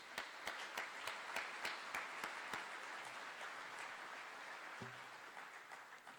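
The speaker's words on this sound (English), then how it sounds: "Let's have a round of applause, please." An audience at the RV Power Breakfast gives a steady round of applause, dense clapping filling the room and holding at an even level throughout.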